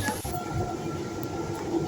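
Faint, steady rumble of a metro train running, with a low hum and a thin tonal whine, one brief knock near the start.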